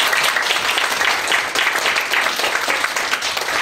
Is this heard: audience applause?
yes